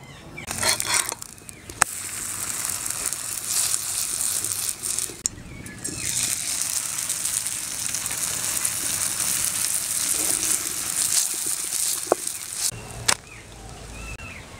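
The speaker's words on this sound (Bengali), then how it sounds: "এবার তুলে এইভাবে সব ভেজে নেব।" Palm-flavoured luchi, the dough made with palm pulp, frying in hot oil with a steady broadband sizzle, interrupted by a few brief breaks and sharp clicks.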